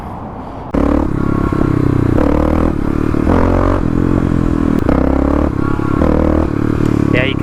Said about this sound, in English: you can definitely hear some engine noise from that skid plate reflecting back